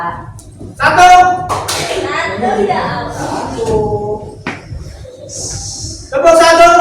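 Children play a counting concentration game with a few sharp hand claps spaced among their chanting voices.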